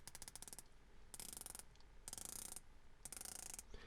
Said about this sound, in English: it sounds more to me like a ratchet than an actual click